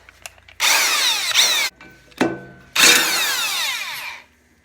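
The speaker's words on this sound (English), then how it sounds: "We're gonna remove this bolt and pull the impeller off the crank." A tool removes the 5/8-inch bolt holding an impeller on the crank of a Billy Goat debris loader, two long loud whirring bursts with a short clunk between, close and without talk.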